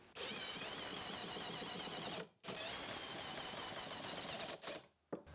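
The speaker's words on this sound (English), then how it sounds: "I'll do that using 2 3-inch screws on each face" Power drill driving 3-inch screws into the wooden legs of a raised garden planter box, a loud sustained whirring run of about two seconds, a short pause, then a second long burst that sputters and stops.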